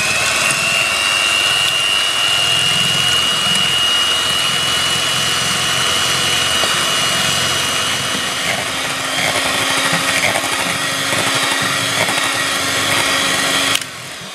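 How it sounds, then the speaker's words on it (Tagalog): An electric beater whirs continuously through egg whites in a bowl, a loud steady motor drone with a high whine that shifts slightly in pitch before cutting off at the end. "gagamit po tayo ng electric beater dito. I-beat po natin itong ating egg whites."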